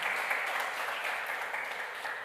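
A church congregation applauds in a steady, dense wash of clapping that holds level throughout, moderately loud and with no voices on top.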